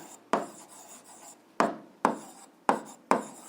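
A pen writes out the answer to an eighth-grade algebra exercise in five short, separate scratchy strokes, each starting sharply and then fading, close and quiet against a near-silent background.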